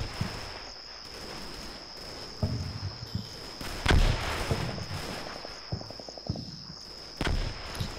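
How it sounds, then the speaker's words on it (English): Mortar shells exploding in Combat Mission: Battle for Normandy land as several scattered thuds and booms, one heavier blast mid-way, over a steady high insect-like whine and faint battlefield crackle. "Still more mortars falling down."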